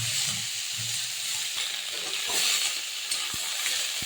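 Figs and potatoes frying in hot oil left from frying fish, a dense, even hiss and sizzle throughout with a few soft stirring knocks near the end.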